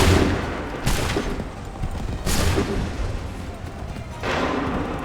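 Musket volleys crack out in the Assassin's Creed 3 video game, three loud massed bursts spaced a second or two apart, each trailing into a rumbling echo.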